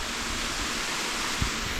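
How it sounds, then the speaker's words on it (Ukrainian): Sykavka waterfall in the Carpathians roars as a steady, broadband wash of falling water, continuous and even for the whole stretch, with a faint low thump near the end and no talking. "Це водоспад Сиковка."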